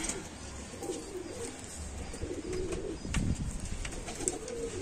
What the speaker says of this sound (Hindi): असल हालत में कबूतर है